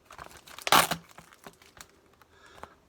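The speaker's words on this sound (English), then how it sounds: "So I take off the label." Crinkling and a short tearing rip of a thin plastic label peeled off a plastic bottle close by, followed by quieter rustles and a few faint crackles.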